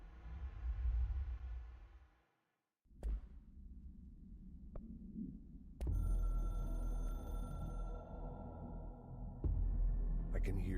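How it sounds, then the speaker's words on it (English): A hotline telephone rings in the video game Control, a sustained tonal ringing over a low, throbbing drone that swells and cuts out before returning louder. A voice is faintly heard talking. "I can hear the hotline ringing in my dreams, constantly ringing."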